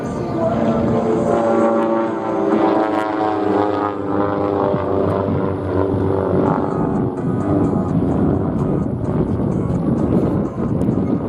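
Aircraft at the Sun 'n Fun 2024 air show flying over a building in gusty wind, a steady droning engine roar heavily mixed with wind buffeting on the microphone, continuous and fairly loud throughout.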